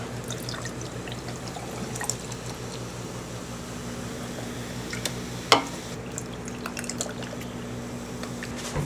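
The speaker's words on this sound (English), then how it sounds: "Crack open the Olipop." A can of Olipop soda is cracked open with one sharp pop partway through, followed by a steady, quiet pour of fizzing liquid over a constant low background hum.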